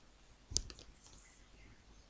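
A single sharp computer mouse click while working in a database diagram tool, close and crisp, followed by quiet room tone.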